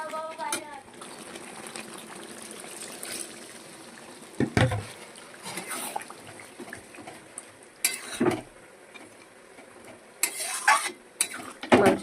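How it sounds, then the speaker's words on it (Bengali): Water is poured bit by bit into methi chicken curry sizzling in oil in a pan. Loud hissing surges rise over steady frying and stirring, with a voice faintly in the background. "এবার আমি অল্প অল্প করে জল দিয়ে দেবো, মাংসটা সেদ্ধ হওয়ার জন্য"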